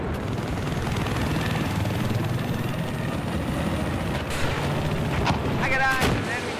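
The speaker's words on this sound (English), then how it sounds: "I got eyes on the enemy chopper." Battlefield 4 beta gameplay on the Shanghai map with a loud, steady helicopter rotor drone over continuous explosions and gunfire, and chatter from players mixed in near the end.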